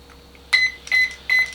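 Electronic beeps from a Maverick Quantum 2 Flux RC car during neutral calibration, three loud, clear tones in quick succession after a short quiet start, close by.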